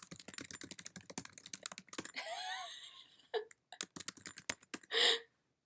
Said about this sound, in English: I'm typing into the chat.